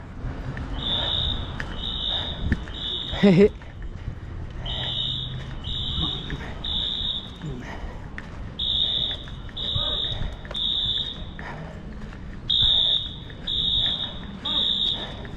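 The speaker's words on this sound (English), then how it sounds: "Sounds like a fire drill. Hurts my ears" A school fire alarm beeps during a fire drill in repeated groups of three shrill tones, loud and regular, while people talk and move about nearby.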